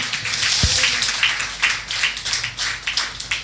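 A church congregation clapping together during worship, steady rhythmic handclaps near and loud throughout, with one short low thump early on.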